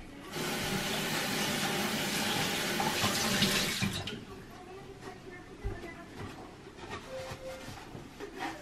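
Turmeric root rinsed under a running kitchen tap, a steady close splash of water for about four seconds that then stops, leaving quieter handling sounds and small knocks.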